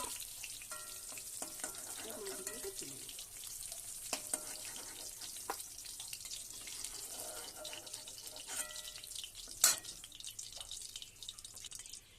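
Pieces of catla fish fry in oil in a pan with a steady, close sizzle and scattered crackles, plus a few sharp utensil clinks. A voice speaks briefly and softly over the frying.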